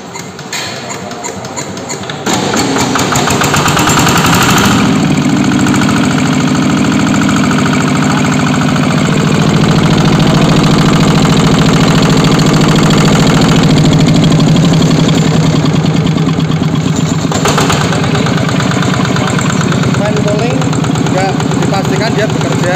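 A Kubota diesel engine starts after a couple of seconds and then idles loudly and steadily, a close, continuous rumbling drone that continues to the end.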